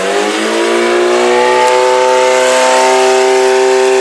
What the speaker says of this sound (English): as I'm revving it up, the computer's keeping it from over revving